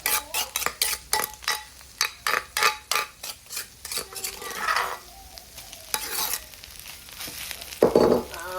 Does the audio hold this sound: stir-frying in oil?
yes